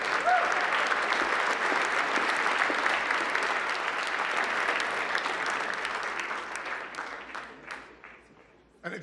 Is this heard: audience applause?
yes